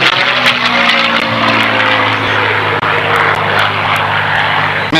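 A P-51 Mustang propeller fighter roars through aerobatic manoeuvres at an airshow in Sussex, New Jersey, its piston engine droning loud and continuous with a steady growl and slight pitch shifts, no pauses throughout.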